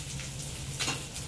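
Potatoes coated in salt and turmeric drop into hot oil in a pan, giving a steady close sizzle with a brief louder crackle of stirring partway through.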